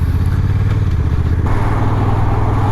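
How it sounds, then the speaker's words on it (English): Honda NT1100 DCT touring motorcycle riding on the road, its engine droning steadily and loudly up close under continuous wind and road noise, with a slight shift in tone partway through. "it's a DCT bike, and as usual with that, it will go into 6th gear very quickly"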